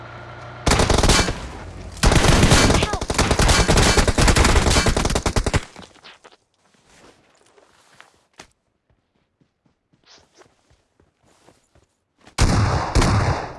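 Sustained loud automatic gunfire from M4 and M249 rifles in the BGMI battle royale game, long dense bursts for several seconds, then quieter scattered footsteps and clicks before another loud burst at the end.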